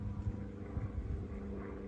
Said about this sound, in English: Bloody aeroplane.